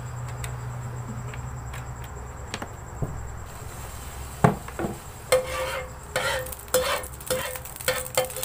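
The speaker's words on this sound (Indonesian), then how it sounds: "Saya tuangkan minyak" A little cooking oil poured into a pan for tomato and egg stir-fry, a quiet background hiss first, then a run of close clinks and scraping bursts of cookware handling.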